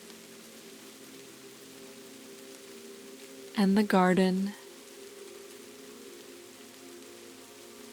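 Steady rain patters on a roof on a Kyoto night, an even, quiet hiss that continues under a brief stretch of soft spoken narration.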